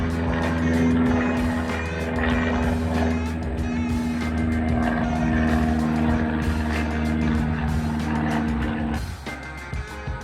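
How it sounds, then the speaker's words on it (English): A small propeller plane flies overhead outdoors on a humid day, its engine drone holding steady and fairly loud for several seconds before easing off near the end, with scattered rustling and no talk. "Hey, little plane, you're wrecking my zen."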